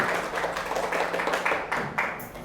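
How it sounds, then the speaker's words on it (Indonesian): Applause from a classroom group of students and teacher during a lesson game, a steady patter of many hands clapping at moderate volume for a couple of seconds, with a faint murmur underneath. "Oke, tepuk tangan buat kita semua."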